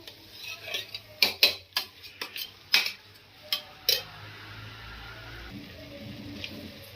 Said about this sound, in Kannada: ಅಕ್ಕಿ ಸ್ವಲ್ಪ ಹುರಿಬೇಕು ಮಸಾಲೆ ಜೊತೆ ಸೆಟ್ ಆಗೋರಿಗೆ ಸ್ವಲ್ಪ ಹುರಿದ್ರೆ ಸಾಕು